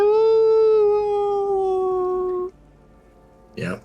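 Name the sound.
summoned wolf howling in a video game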